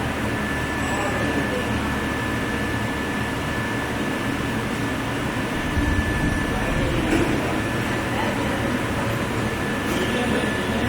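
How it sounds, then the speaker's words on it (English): A sliding table fuse machine welds and cuts leather backed with foam fabric. It gives a steady, droning mechanical hum with a faint whine, and a few soft clunks come near the end. "I will show you the welding and cutting of this material."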